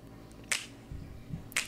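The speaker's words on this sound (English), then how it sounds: "We just got a fade out on a clap snap." Sparse, crisp clap-and-snap hits at the tail of a song, two bright accents about a second apart with faint low musical remnants between them as the track fades.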